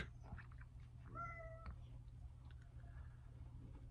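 A cat gives a single short, clear meow at moderate distance, heard over a steady low electrical hum and faint background clicks, with no talking.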